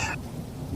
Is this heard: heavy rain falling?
yes